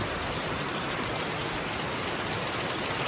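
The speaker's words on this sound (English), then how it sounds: "Definitely a lot of rain." Heavy rain pours steadily during a hurricane in Hawaii County, a dense, even hiss of falling water with no breaks, fairly close and filling the whole stretch.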